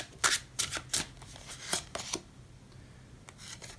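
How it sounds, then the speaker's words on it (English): Cards from a tarot deck are shuffled and one card is pulled out, giving a series of quick crisp riffling bursts near the start that thin out into softer, scattered sliding taps, close and fairly quiet with no talk. "Let's pull one more advice card here for you."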